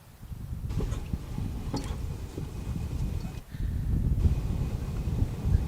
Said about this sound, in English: You know, Steve and Nick, I keep thinking it's the windiest time of the day, and then 5 minutes later it feels like it just gets windier